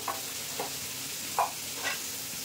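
A steady, quiet sizzle of potatoes frying in oil for rohu fish curry, broken by a few soft scraping stirs at irregular intervals.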